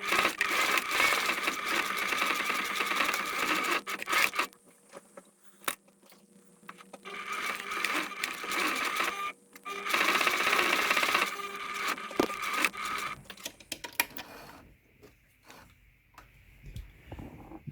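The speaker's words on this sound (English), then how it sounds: "When attaching the casing, backstitch the top and bottom and sew in about 3/8" A sewing machine stitches a casing onto a fabric face covering, running in bursts with pauses between, close and fairly loud, with a few ticks and fabric handling sounds.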